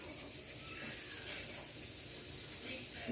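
Onions on a grill beside venison steak, giving a steady, faint sizzling hiss that holds evenly throughout.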